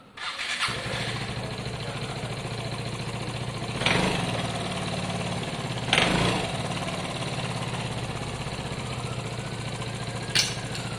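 A small Piaggio Fly scooter engine, newly swapped, starts after a moment and settles into a steady, buzzing idle, with a few louder clanks or blips along the way.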